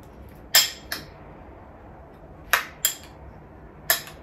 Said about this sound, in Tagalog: haluin ko lang to